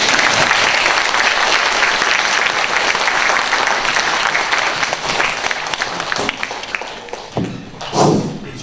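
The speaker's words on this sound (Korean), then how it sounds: "큰 박수 보내주세요." A lecture audience in Seoul breaks into loud, dense applause that carries on steadily, then thins out toward the end, with a thud or two as it dies down.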